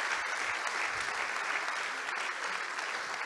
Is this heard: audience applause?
yes